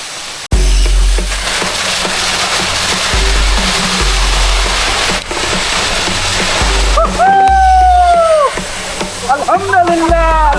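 Boalia waterfall on a forest trail in Mirsarai roars with a dense, continuous rush of falling water, loud and close throughout, while people talk and call out over it.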